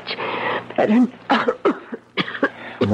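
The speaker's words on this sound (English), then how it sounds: "I'm worried about that cough." Someone in an old-time radio mystery drama coughs several times in dry, rasping bursts, close to the microphone, mixed with breathy throat sounds.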